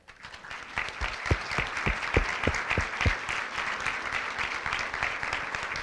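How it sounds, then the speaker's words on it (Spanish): A crowd applauds steadily at a natural cosmetics symposium, with a few louder individual claps near the start, the clapping sustained and fairly distant. "con un fuerte aplauso y toda la energía"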